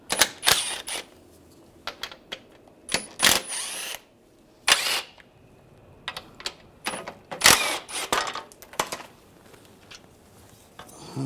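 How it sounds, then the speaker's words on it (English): Four screws backed out with an 8mm socket on a ratchet during an AC condenser replacement on a 2013-2016 Dodge Dart 2.4L, a series of close, sharp clicking bursts separated by brief pauses, no voices. "I'm going to take the 4 screws out"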